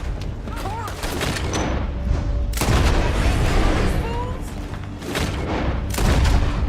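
Gunfire in the western video game Red Dead Redemption 2, loud booming shots in irregular bursts mixed with game dialogue and voices talking over the action.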